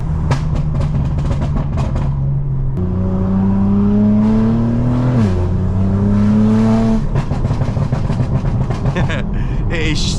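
The exhaust of a BMW G82 M4 on a tuned burble map roars and drones, then drops pitch through downshifts with crackling pops and burbles, loud and close throughout.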